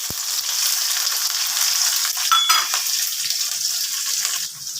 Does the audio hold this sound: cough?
no